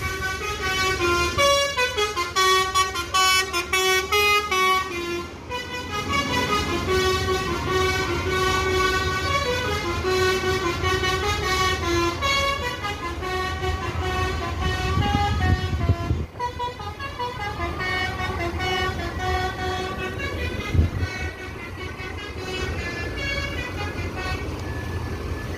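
Several buses pull out of the Solok bus terminal in West Sumatra, with loud sustained horn toots and chords over a steady engine rumble, continuous and close throughout.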